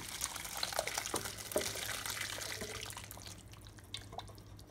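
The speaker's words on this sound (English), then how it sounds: "Now it's time for us to pour in this mushroom gravy right on the top." Thick mushroom gravy is poured over beef chuck roast in a crock pot, a soft wet trickle with scattered drips and splashes that thins out and fades over a few seconds.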